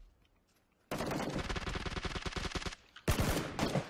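Automatic gunfire in the video game PUBG, a loud close burst of rapid rattling shots lasting about two seconds, then a brief pause and a second short burst, with no talk over it.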